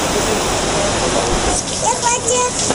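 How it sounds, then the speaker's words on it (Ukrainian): Rain falling steadily outside a cafe in Montenegro on the Bay of Kotor, a dense continuous hiss close by, with a voice talking over it toward the end. "Тільки встигли зайти в кафе, як дощ почався."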